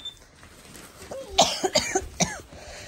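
A child coughs after choking while running, a quick burst of several sharp, close coughs after a brief pause, with a faint voice at the start.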